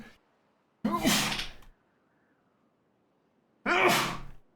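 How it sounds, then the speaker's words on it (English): Two loud sneezes close to the microphone, a few seconds apart, each a sharp burst that trails off, with near silence between them. "1 second, folks, gotta sneeze."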